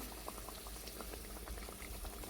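Masala for a black country-chicken mutton curry bubbles and simmers in a pot, a soft, steady popping boil heard quietly up close with no voices.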